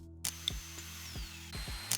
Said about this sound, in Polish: Dawajcie tą wiertareczkę szybką. Tą pójdzie szybko.